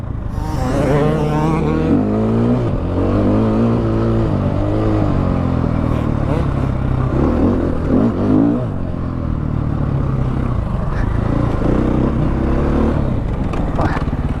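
A 2016 KTM 500 EXC dirt bike engine revs and roars continuously up close during a muddy test ride, its pitch rising and falling as the throttle changes.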